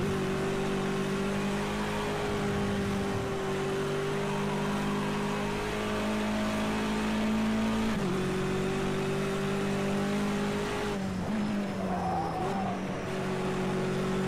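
A BMW touring race car, driven flat out on a circuit from the onboard position, accelerates hard under power out of a corner in a slight slide. The engine drone is loud and steady, rising in pitch and dipping briefly at gear changes.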